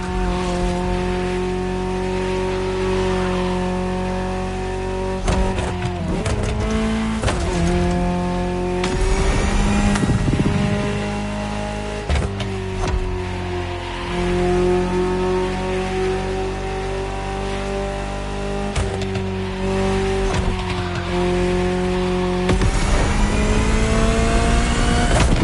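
A Ferrari supercar engine pulls and revs continuously for the whole stretch, loud and close, with changing pitch as it accelerates and shifts, and brief tire squeal between gears; no talking.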